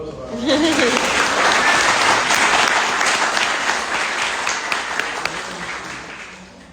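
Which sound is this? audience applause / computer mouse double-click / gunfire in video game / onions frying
audience applause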